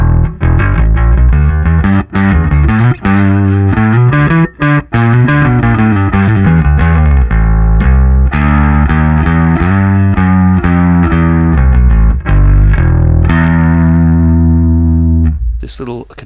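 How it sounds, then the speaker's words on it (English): Bass guitar played through a BearFoot FX BlueBerry Bass Overdrive pedal with controls at noon, loud, steady overdriven bass notes and riffs with a thick distorted tone, played alone for about sixteen seconds. "let's bring in a little bit of the fabulous BlueBerry Bass Overdrive to make it sound even nicer"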